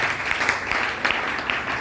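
A church congregation applauding to acclaim the Lord during a tithes and offerings service: dense, continuous clapping from many hands in a reverberant room, with a few louder claps standing out.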